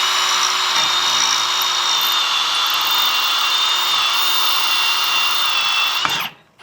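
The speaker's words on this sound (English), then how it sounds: "I'm going to drill in here with no hammer on 2" A power drill with hammer mode off bores into concrete, a loud continuous whine that holds steady for about six seconds and then winds down and stops.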